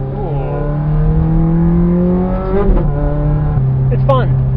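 Ferrari F430 fitted with a loud Fabspeed exhaust, accelerating up through its revs from close inside the car, with a brief shift break before it climbs again.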